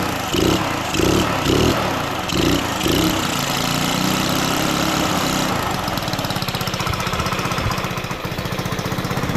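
A GY6 scooter engine runs on a homemade run stand, rumbling loudly and unevenly at first, then settling into a rapid, steady idle putter up close.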